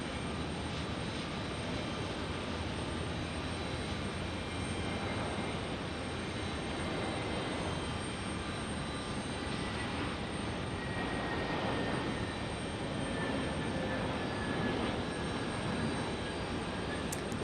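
An Airbus A321neo jet landing at Phoenix Sky Harbor Airport, heard as a steady broad engine roar and rushing air that holds constant throughout, fairly distant and without speech.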